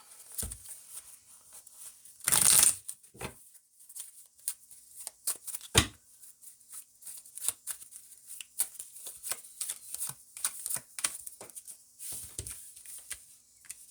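A deck of tarot cards is shuffled with soft irregular riffles and taps, one louder burst of rapid riffling early on, close and quiet with no talking.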